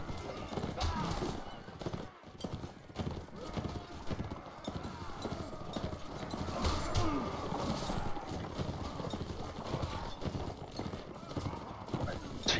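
Horse hooves gallop in rapid, steady clip-clop during a castle siege in Mount & Blade Warband. The hoofbeats run continuously for the whole stretch beneath a busy mix of battle noise and occasional whinnies.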